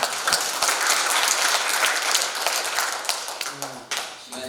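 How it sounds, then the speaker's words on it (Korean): An audience at a seminar marking the 72nd anniversary of the nation's founding gives a lawyer a warm welcome with loud, sustained applause. The dense clapping carries right through and starts to thin out near the end. "김기수 변호사님 뜨거운 박수로 맞이해주시기 바랍니다"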